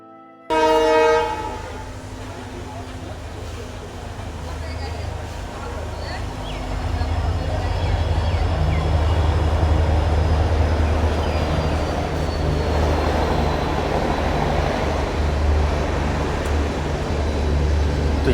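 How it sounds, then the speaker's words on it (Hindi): The Kanyakumari–Dibrugarh Vivek Express runs through Kamakhya Junction without stopping, a loud horn blast at the start giving way to a rising, continuous rumble and rattle of wagons passing close by. "कन्याकुमारी डिब्रूगढ़ विवेक एक्सप्रेस अभी स्किप करी है कामाख्या जंक्शन स्टेशन को"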